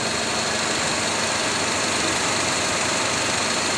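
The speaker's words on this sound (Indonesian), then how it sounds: "Extra fan-nya muter." A Nissan X-Trail T31 engine idles with its extra radiator fan spinning, giving a steady, dense whooshing roar with no pauses, close and constant throughout.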